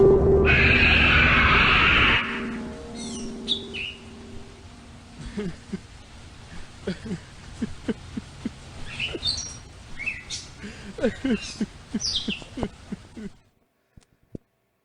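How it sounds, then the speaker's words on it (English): After a loud burst of noise cuts out, birds chirp and call intermittently in the background, faint and scattered over a quiet outdoor hush. "Sounds of birds and insects can now be heard in the background, and Agent Brandt can be heard softly sobbin"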